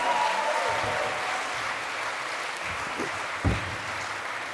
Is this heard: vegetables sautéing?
no